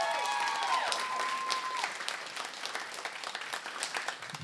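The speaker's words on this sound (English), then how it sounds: "Let's give them a round of applause." Audience at a stand-up comedy show for mental health applauding first-time comics, thick clapping with a brief high whistle early on, then thinning into scattered individual claps.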